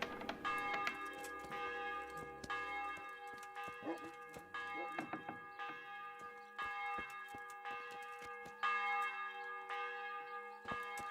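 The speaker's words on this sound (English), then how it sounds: "It's the church that's ringing its bell." Church bells ring repeatedly in Kingdom Come: Deliverance, a steady run of loud, resonant strikes that fills the whole stretch with overlapping tones, with no talk over them.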